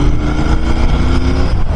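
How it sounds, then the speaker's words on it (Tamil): Motorcycle engine braking on a hill ride near Ooty and Kotagiri, a loud, close, steady low engine drone with a slight falling pitch over about two seconds, with no voice over it. "இப்போ இன்ஜின் பிரேக்கிங் பண்ணுறேன் பாருங்கள்"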